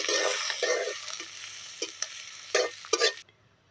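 Chopped onion fries in a pan for an egg and potato curry, a steady sizzle broken by several bursts of stirring scrapes, close up with no voices.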